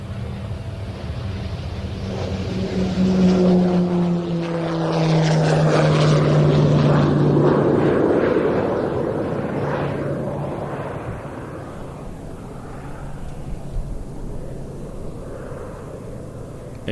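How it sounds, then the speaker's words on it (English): A Pilatus PC-21 turboprop training aircraft departs at the Royal International Air Tattoo, its propeller drone rising to a loud roar as it passes and then fading into a rumbling distance, with wind noise on the microphone. "It is not an aircraft to be underestimated, the PC-21. It makes much more noise than people expect"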